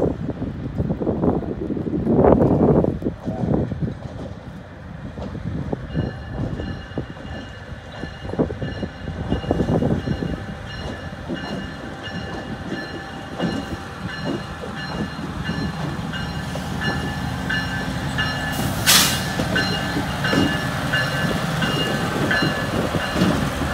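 A freight train locomotive rumbles steadily nearby in the rain with low mechanical drone, scattered clanks and a brief high hiss, wind buffeting the microphone throughout.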